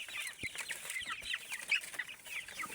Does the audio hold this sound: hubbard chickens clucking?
yes